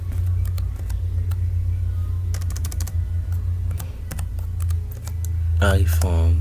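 A computer keyboard is typed on in quick bursts of light clicking keystrokes over a steady low hum, ending with a louder burst of noise.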